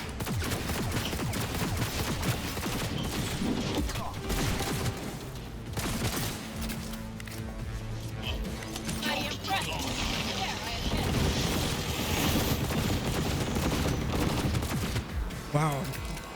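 Dense, continuous gunfire and explosions in the Cyberpunk 2077 video game, with rapid bursts and heavy booms layered together loudly throughout.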